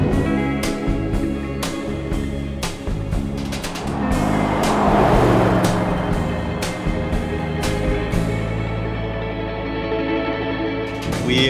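Lexus GX470 cruising on the road near 200,000 miles on the way to a campsite, with a steady loud engine and road rumble from inside the cabin and a brief swell of wind and tire noise midway.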